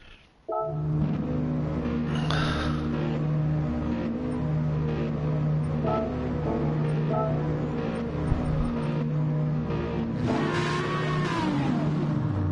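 Racing car engines drone steadily through a rolling start in an online DTM-style racing game, a sustained multi-car engine hum with a sharp rising rev swelling near the end.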